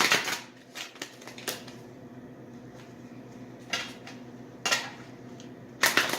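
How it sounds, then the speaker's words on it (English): Tarot cards are shuffled in several quick riffling bursts separated by brief pauses, close and crisp, with no talking. "I'll do another couple quick shuffles"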